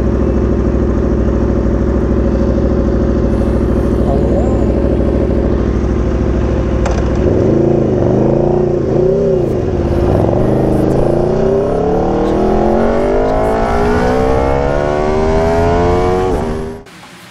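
An Aprilia RSV4 motorcycle idles with a rough burble on a Saigon city street, then takes a sharp throttle blip and revs through several rising and falling sweeps before climbing into a long, loud wail that cuts off abruptly.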